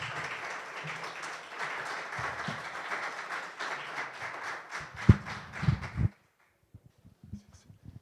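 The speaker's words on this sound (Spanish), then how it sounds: "recibámoslo con un fuerte aplauso." Audience applause at an evening talk on art in medicine, a dense steady clapping for about five seconds that thins into a few scattered claps and cuts off, followed by near silence with faint handling noises.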